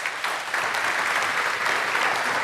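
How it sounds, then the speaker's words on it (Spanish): Church congregation applauding in praise, a dense, steady wash of many hands clapping close and loud throughout, with no voices standing out. "Pues demos un aplauso al Señor."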